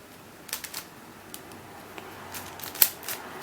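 A speedcube being turned by hand, a series of quick plastic clicks and clacks in short irregular bursts, close and fairly crisp over a quiet background.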